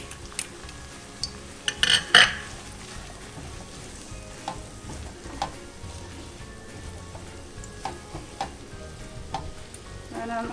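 Green peas for a gujiya stuffing sizzle in a frying pan, with a continuous soft crackle of hot oil and scattered clinks and scrapes of a spoon stirring against the pan.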